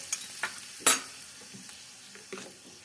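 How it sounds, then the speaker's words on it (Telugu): A few short sharp crackles and a sizzling hiss as curry leaves, urad dal and mustard seeds temper in hot oil in a ladle, with faint clinks between them. "ఒక గరిటెలో పోపు పెట్టుకుండేసి కలుపుకుండేయండి"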